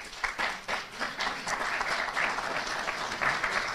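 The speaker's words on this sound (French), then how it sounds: "je demande à l'assistance d'applaudir l'Allemagne." An audience at a Berlin speech by Togo's foreign minister applauds, a steady, dense patter of many hands clapping throughout, fairly close and sustained.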